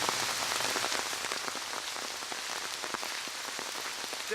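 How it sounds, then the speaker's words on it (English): Steady, dense rain falls outdoors, a close, even wash of patter on surfaces that holds at the same loudness throughout with no voices. "It's raining."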